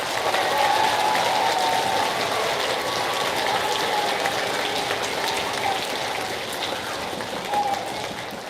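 Sustained applause from an audience honoring veterans at an elementary school Veterans Day program, dense steady clapping throughout, loud and close, easing slightly near the end.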